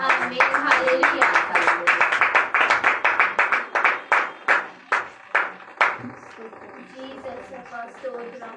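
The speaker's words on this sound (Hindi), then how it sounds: "ताली बजाकर हम परमेश्वर को महिमा दें" Congregation at a church service claps hands in praise to God, a quick unison rhythm of sharp claps that gradually slows into spaced, separate claps before fading into quieter murmuring and voices.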